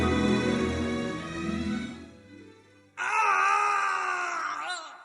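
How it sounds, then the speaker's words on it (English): A terrible scream from a room in an audio drama, heard as a drawn-out wailing cry that drops away into a low moan, then a shrill sustained howl rises abruptly and holds. "Holmes and Watson hear a terrible scream from Dr."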